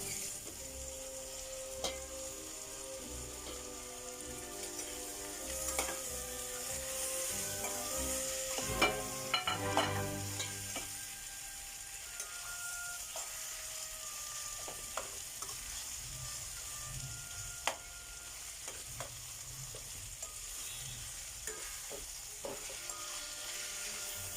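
Tomatoes and potatoes fry for a prawn roast, a steady soft sizzle in the pan with a burst of stirring and scraping clatter near the middle, all fairly quiet and free of talk.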